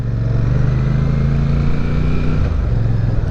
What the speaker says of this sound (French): Et le petit moteur de 47 chevaux finalement s'en tire très très bien.